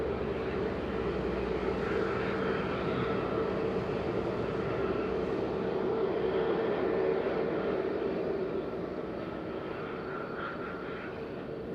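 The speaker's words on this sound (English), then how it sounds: "Ryanair lining up, TAP Airport approaching." TAP airliner approaching Madeira Island Airport, a steady broadband jet roar with a faint engine whine holding evenly throughout, distant to mid-range and unbroken, with no voices.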